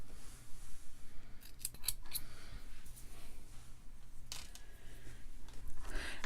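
Scissors snip green yarn after a crochet round, giving a few crisp close-up cuts and clicks over a low background hum.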